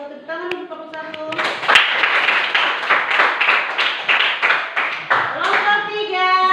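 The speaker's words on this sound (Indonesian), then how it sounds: "Tepuk tangan untuk kelompok 1" A small group applauds a team after a classroom presentation during teacher training, quick rhythmic clapping of hands that rises then settles into a steady beat. A voice speaks at the start, and speech comes back near the end.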